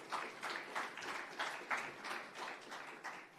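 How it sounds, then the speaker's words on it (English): Faint, scattered applause from an audience at an architecture excellence awards ceremony, the claps coming in uneven pulses at a distance. "A round of applause for Jaisim sir and Shankar sir, please."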